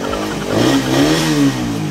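A Suzuki Raider 150 motorcycle engine revs up and down close by, with rising and falling pitch over a steady idle, loud and alone with no talking.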